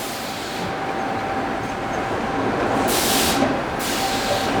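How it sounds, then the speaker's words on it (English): A continuous mechanical rushing roar with sharp hissing bursts of air partway through, like a steam train, steady and fairly close, as baked bread loaves are sucked out of their tins. "That's the sound of the loaves being sucked out of the baking tins."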